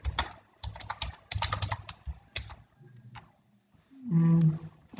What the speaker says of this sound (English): Sorry, I'm very bad in typing.